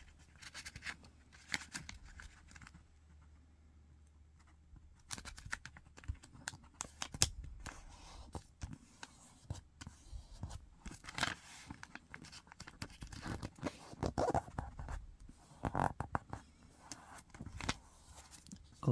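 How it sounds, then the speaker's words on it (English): A sheet of paper being folded by hand for an origami Tato box, with soft crinkling, brushing and sharp creasing swipes up close in irregular bursts, separated by quieter pauses. "fold in half to make a triangle"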